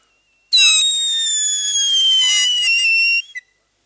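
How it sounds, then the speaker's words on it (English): A taut strip of cellophane held between the lips and blown hard gives a piercing, shrill whistle, loud and close, lasting about three seconds without a break before cutting off with a brief squeak. "If you just get a bit of cellophane, a fairly straight edge, pull it tight and hold it between your lips and blow hard"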